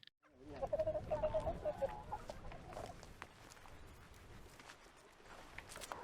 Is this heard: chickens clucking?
yes